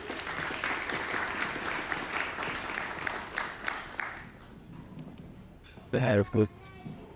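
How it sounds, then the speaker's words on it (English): Applause for the bride's sister at a wedding reception, steady crowd clapping for about five seconds that fades out, followed by a brief burst of nearby voices. "Can we get a round of applause for Nafi?"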